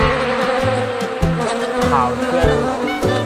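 Swarming wild bees buzz close and loud in the countryside, droning continuously in overlapping layers with rhythmic pulses as they fly around the hive.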